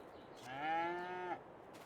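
A single cow lets out one drawn-out moo in a home pasture, a clear harmonic bellow rising and holding before cutting off, heard fairly close against a quiet outdoor background.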